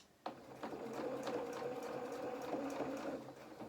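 A domestic sewing machine stitches fabric for a doll jacket, starting abruptly and then running in a quick, steady, close-up mechanical patter for several seconds.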